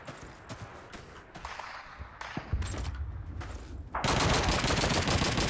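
Scattered gunshots crack in Call of Duty 2, sparse at first, then a sustained loud machine-gun burst takes over near the end.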